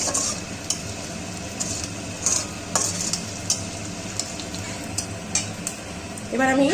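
Potatoes fry in oil with bay leaf, dried red chilli and cumin, the close sizzle broken by repeated scraping and clinks of a spatula stirring against the pan, with a brief voice near the end.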